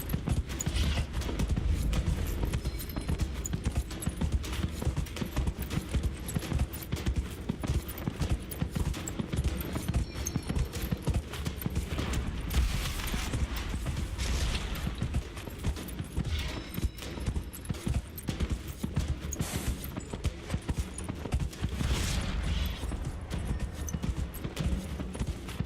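Steady clip-clop of horse hooves in a continuous trotting rhythm in Dragon Age: Inquisition, mixed with a dense, busy game soundscape running the whole time.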